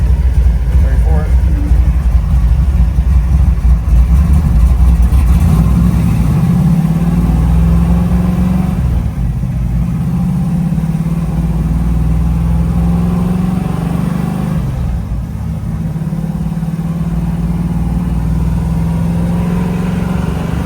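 A 572 big block Camaro engine runs loud and close, idling roughly and then revving in a few short rises and falls, with people talking over it.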